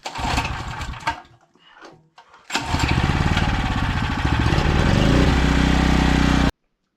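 A Champion generator engine, too weak to run a DeWalt table saw, cranks in short bursts, goes briefly quiet, then catches and runs loud and steady with a throbbing, rattling drone to the end.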